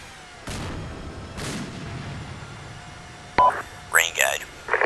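A tank main gun fires twice on command during an engagement with a T-34, giving two deep, heavy booms about a second apart with rumbling decay, followed by crackly radio-style crew talk.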